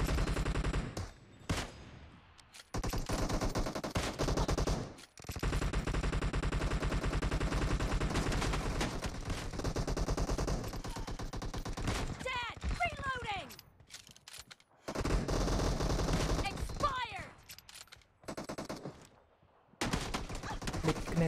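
Rapid automatic gunfire bursts crackle through a PUBG Mobile match, dense and loud, with brief pauses between volleys and some voice chatter mixed in.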